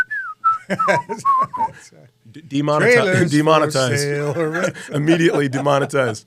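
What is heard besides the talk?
person whistling a tune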